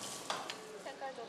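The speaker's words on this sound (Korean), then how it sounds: "다진 광어살과 삶은 감자를 섞은 공에 치즈를 넣고 튀기자 먹음직스런 광어 치즈볼이 됐습니다." Flounder and boiled potato balls filled with cheese deep-frying in oil, a steady close sizzle with faint clinks and brief stirring sounds on top.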